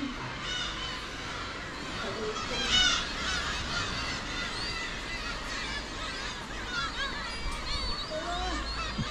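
Seagulls call over the coast at Gwaneumdo on Ulleungdo island, giving repeated harsh, honking cries at close to moderate range over a steady outdoor wash of noise.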